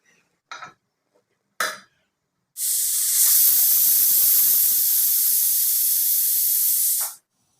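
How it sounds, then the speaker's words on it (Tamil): A pressure cooker on the stove cooking red cowpeas lets out one long, loud, steady steam whistle lasting several seconds, preceded by a couple of short hissing bursts. "இப்போ ஒரு விசில் வந்துருச்சுங்க."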